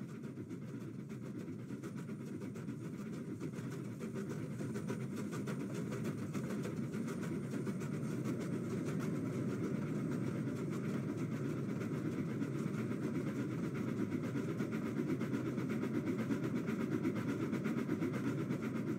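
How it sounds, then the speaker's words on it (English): A train rolls steadily along the rails with a continuous low rumble and rushing roar that builds slightly over time, with no voices. "The train went faster and faster."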